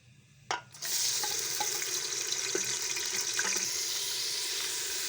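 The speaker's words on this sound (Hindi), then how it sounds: "टमाटर हमने इसमें डाल दिए हैं।" Tomatoes hit hot ghee in a pressure cooker with a sharp thump, then a continuous hissing sizzle of frying, steady and close, with a few faint clinks.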